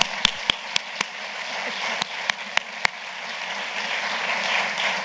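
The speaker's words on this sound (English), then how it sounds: "so can we just clap for time management?" At an Ohio University updates meeting, a few sharp, separate hand claps ring out, then broader audience applause swells into a steadier, moderately loud patter.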